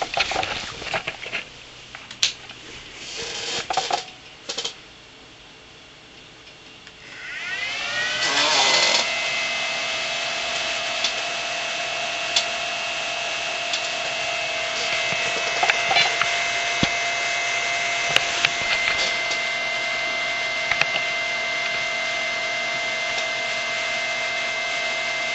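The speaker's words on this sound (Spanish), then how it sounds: "Ahora lo que se oye es la fuente de alimentación." Power supply running in a modded Xbox 360 PC, first some clicks and handling noises, then a steady fan hum and whine that rises at startup and holds loud and constant.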